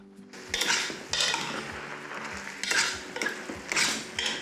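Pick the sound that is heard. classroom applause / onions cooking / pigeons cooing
onions cooking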